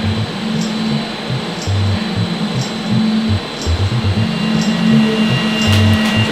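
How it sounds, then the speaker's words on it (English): A vacuum pump draws air from bagged carbon fibre bicycle parts during an oven debulk cycle, giving a loud, steady mechanical drone with low pulsing tones and no talk. "we're going to apply that vacuum to be able to draw air out"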